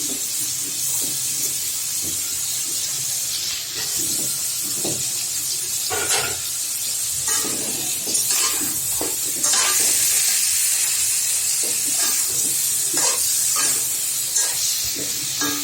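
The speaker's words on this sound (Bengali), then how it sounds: "আমি পেঁয়াজ দিয়ে দিচ্ছি, কাঁচামরিচ দিয়ে দিচ্ছি।" Onions and green chilies frying in a pan give a loud, steady sizzle and hiss up close, with repeated scraping strokes of a stirring spoon.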